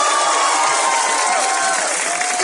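Sustained applause and cheering from a studio audience at a Brazilian improv comedy show, a dense, steady wash of clapping and crowd noise filling the whole stretch at a loud, even level.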